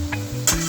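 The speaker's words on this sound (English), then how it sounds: "Stir again." Brief stir in a hot pan of ackee and saltfish preparation, a quick scrape and clink over a soft sizzle, close and alone.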